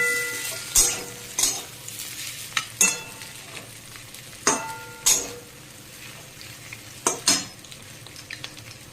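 Egg, potato and mixed vegetables stir-fried together in a kadai for egg chow mein: steady sizzling broken by repeated sharp spatula scrapes and clinks against the pan, fairly close, with no talking.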